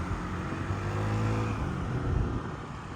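A Yamaha Jog SA39 ZR fuel-injected sport scooter engine revs and accelerates close by, a steady loud buzzing drone that climbs briefly in pitch, with no voices.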